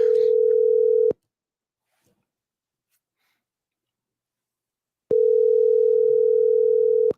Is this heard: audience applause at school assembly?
no